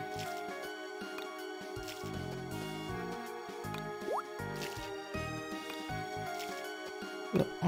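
Crops being watered in Harvest Moon: Mein Inselparadies, with soft squishy dripping and splashing effects layered over the steady tonal game music.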